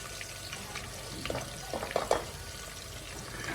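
A spoon stirring okra stew with salted fish in a pot, soft scrapes and wet squelches over a steady background hiss, brief and close.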